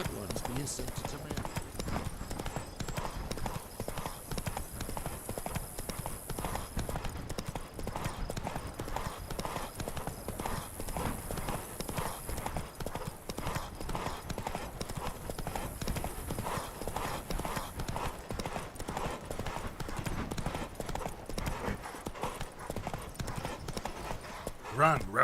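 Horse hooves gallop in The Witcher 3 video game, a quick, steady clip-clop rhythm running throughout, with occasional game voices and music beneath the hoofbeats.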